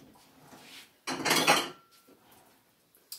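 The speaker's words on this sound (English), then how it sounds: "So let me find a clean knife." Cutlery clatters as a hand rummages through a drawer for a clean knife. A dense burst of metallic jangling sits in the middle, with faint shuffling before it and a single clink at the end, all close and with no talk.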